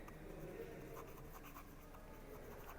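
Chalk or marker scratching across a board during a class 11 physics lecture on radius of gyration, a faint continuous writing scratch under quiet room noise, with low speech-like sound in the background.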